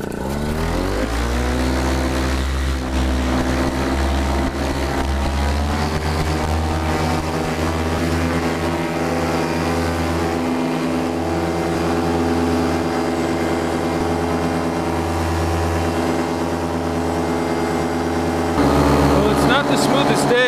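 A paramotor engine drones steadily in flight beneath an Ozone Spyder wing, a loud, continuous buzzing hum that rises in pitch early on and holds near and constant throughout, with a brief surge near the end.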